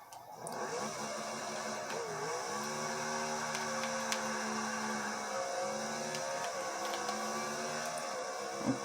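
A BMW GT LM race car engine in Forza Motorsport 6 drones steadily at Catalunya, its pitch rising and falling through gear changes, a continuous mid-level buzzing whine with no talking.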